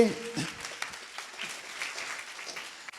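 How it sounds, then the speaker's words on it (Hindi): Congregation clapping at a Hindi-language church youth gathering, a fairly soft, scattered patter of hands with a voice briefly heard at the start, fading in intensity across the few seconds. "एक बार ताली बजाओ यीशु मसीह के लिए"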